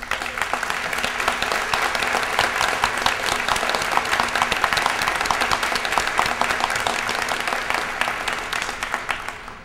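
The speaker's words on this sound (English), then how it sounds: "Please join me in a round of applause for the Tarleton State University nursing faculty" A ceremony crowd gives a long, sustained round of applause for university nursing faculty at a building topping-out event, dense crisp clapping holding steady throughout with no talking.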